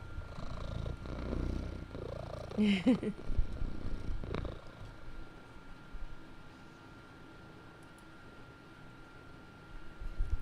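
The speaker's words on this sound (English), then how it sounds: "He's purring up a storm." A soft, steady low purr close to the mic, with a brief burst of handling noise and rustling early on before the purring settles in.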